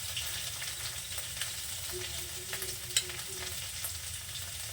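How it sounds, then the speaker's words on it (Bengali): Ginger and cumin paste frying in a pan while being stirred, with a continuous close sizzle, light scraping, and occasional small clicks of the spoon; no one talks. "একটু জিরে বাটা এটাকেও আবার একটু নাড়াচাড়া দিয়ে নেব"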